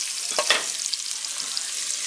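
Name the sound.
beans frying in a pan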